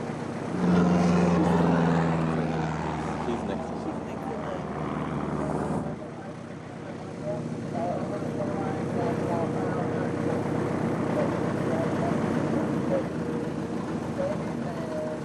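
A light propeller airplane taxis toward the runway, its engine humming steadily and close with a louder rumble at the start, as radio-style voices talk over it.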